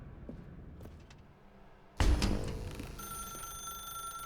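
A telephone rings in The Stanley Parable video game, a sudden bright ringing tone that begins after a quiet stretch and continues steadily, close and clear.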